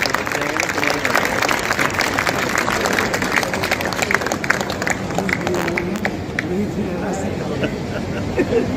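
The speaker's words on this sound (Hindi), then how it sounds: "जोरदार तालियों से डिस्ट्रिक्ट जज साहब का स्वागत करें।" Loud, sustained applause and crowd noise welcoming a district judge at a Rohini Court event, a dense steady roar that thins slightly near the end, with background chatter mixed in.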